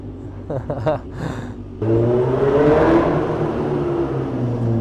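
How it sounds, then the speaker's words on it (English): A Kawasaki Ninja H2 motorcycle engine, with a worn clutch, revs up after a few quieter sounds and holds a loud, rising whir close by, with faint background voices. "he's probably excited now hearing this bike go"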